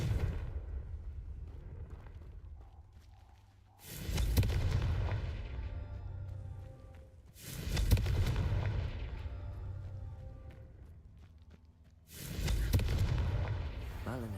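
Confringo explosion spells in the video game Hogwarts Legacy go off as three loud booming blasts, each a sudden burst with a rumbling decay, spaced several seconds apart over a low background.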